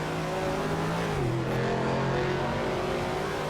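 Race car engine in a WSCC 1967 Daytona Continental 24-hour racing video game revs steadily with a harmonic whine, dipping briefly in pitch as it shifts, then climbing again, continuous and loud with no talk.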